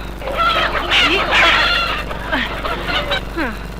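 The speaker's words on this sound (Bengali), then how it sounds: "তুমি বরং আমার ওই বড় মোরগটা নিয়ে যাও" A large village rooster clucks and calls repeatedly, loud and close, in a series of rising squawks and throaty clucks with brief gaps between them.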